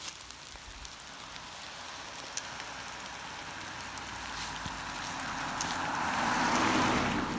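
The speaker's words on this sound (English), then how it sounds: "it's raining" Steady rain falls outdoors during a walk past a roadside ditch full of uncleared leaves, a broad continuous hiss that swells slightly louder toward the end, with no talking.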